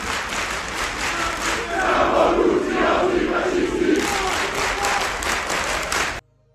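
A large crowd of left-wing activists roars and chants together, loud and sustained for about six seconds with clapping mixed in, then it cuts off abruptly.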